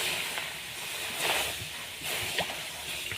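A steady hiss of liquid cow's milk hitting a hot wok, with soft sloshing and faint drips rising and falling.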